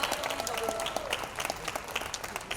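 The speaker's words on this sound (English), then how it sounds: "A big round of applause." Audience applause at a makeup event, a steady patter of many hands clapping at moderate distance, fairly faint and continuous across the whole stretch.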